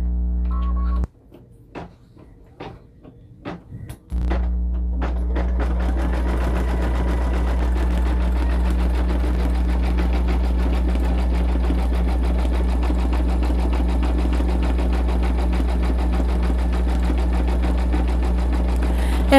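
Embroidery sewing machine stitching a hooded towel, a steady loud mechanical hum and rapid needle chatter running continuously after a few seconds of separate clicks and knocks at the start.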